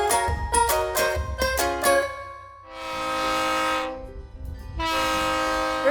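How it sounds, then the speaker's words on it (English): Verde Canyon Railroad train in a scenic Arizona canyon: a run of short, loud horn blasts, then two long sustained horn blows separated by a brief pause, ringing out alone with no voices. "why not ride a train? Hop aboard the Verde Canyon Railroad for a journey through the scenic canyon."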